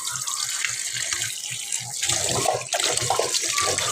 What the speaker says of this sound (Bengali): তো ভালো করে ধুয়ে নিতে হবে।